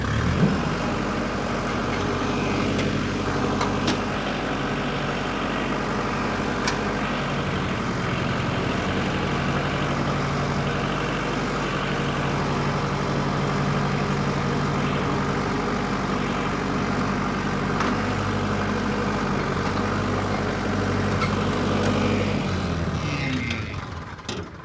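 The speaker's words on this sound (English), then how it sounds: "She's a good old tractor." An old blue tractor idles nearby, its engine giving a steady, loud low rumble with an even, unbroken drone for the whole stretch before it cuts off at the very end.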